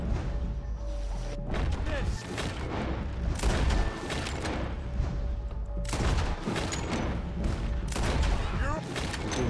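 Gunfire in a Red Dead Redemption 2 shootout: dense, loud volleys of shots and crashing impacts packed close together, breaking off briefly and then surging again.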